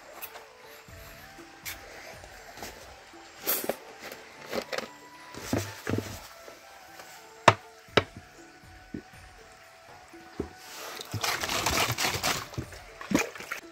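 Cold water drawn from a large open well, irregular splashes, trickles and pours in separate bursts, ending in a longer spill of water, with a few sharp knocks between.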